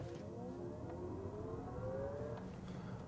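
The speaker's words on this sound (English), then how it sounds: "you got those two different sound modes for acceleration. You got normal mode" 2024 Chevy Blazer EV RS in normal acceleration sound mode: a faint synthetic tone rising steadily in pitch over low cabin road rumble, heard from inside the car without talk.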